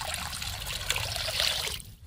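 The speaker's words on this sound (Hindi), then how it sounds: "चलिए इसको हम पानी से अब धो लेते हैं।" Water trickles and splashes steadily as small fish are rinsed in a village kitchen, a continuous close pouring and sloshing that quiets near the end, with no talking.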